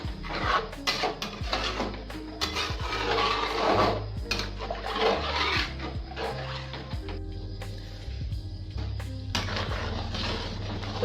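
A spoon clatters and scrapes steadily against a pot of kadhi cooking on a high gas flame, with repeated metallic knocks and a constant low burner roar underneath.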